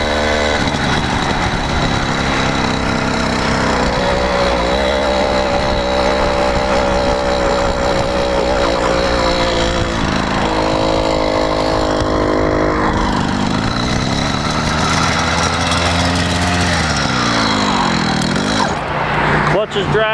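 A motorcycle engine running too lean with a dragging clutch, idling loudly and unevenly close by with wavering pitch throughout, while someone talks over it.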